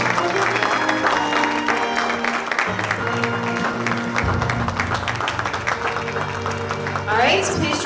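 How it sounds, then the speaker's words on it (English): An art exhibition audience claps in a continuous, moderately loud round of applause that swells near the end, with a voice speaking over it at times. "please join me once again in applauding all the artists who participated in our exhibition"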